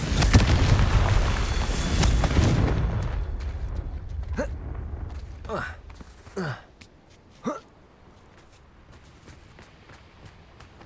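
A Confringo blasting spell in Hogwarts Legacy sets off a loud, roaring burst that fades over a couple of seconds, followed by several sharp, separate explosive cracks spaced about a second apart.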